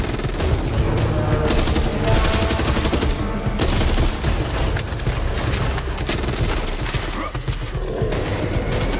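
Continuous heavy gunfire from the video game Back 4 Blood, loud rapid automatic bursts layered with booms and mechanical clatter that fill the whole stretch without a break.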